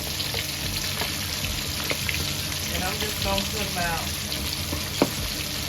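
Flour-dusted chicken wings fry in hot oil in a pan with a steady, even sizzle throughout, while a person talks over it and a few light clinks sound.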